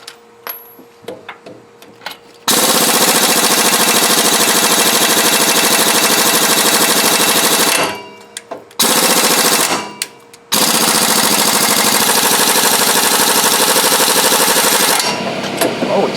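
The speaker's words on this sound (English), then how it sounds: "I had to get a ratchet out to get it loose" A ratchet loosens caliper bracket bolts during a front brake job on a 2000 Ford F350 4x4. A few sparse clicks give way to loud, continuous mechanical rattling in long bursts, separated by short pauses.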